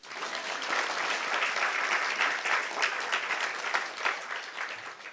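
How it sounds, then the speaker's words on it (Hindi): An audience at a spiritual talk breaks into sustained applause, a thick, continuous rattle of many hands with slight swells and dips throughout. "ताली बजाने का टाइम"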